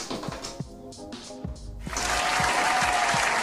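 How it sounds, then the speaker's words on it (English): Audience clapping erupts at a live podcast taping, rising to a loud, sustained burst after a stretch of voices and scattered claps. "Give me a clap."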